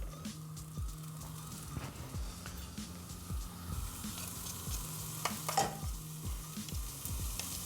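Meat sizzling and being stirred in a pan for Hutsul bograch, with a steady frying hiss under rhythmic scraping strokes of a utensil, close and moderately loud.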